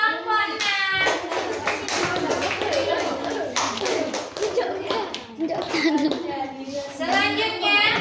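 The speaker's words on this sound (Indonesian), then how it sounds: "Ya, tepuk tangan untuk kelompoknya." Schoolchildren in a classroom applaud a group of classmates, a dense burst of clapping running throughout with children's voices chattering over it and an adult voice speaking.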